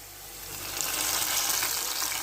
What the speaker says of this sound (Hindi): देसी तरीके से आपने तड़का लगा देना है